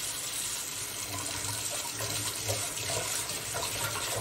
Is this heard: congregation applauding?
no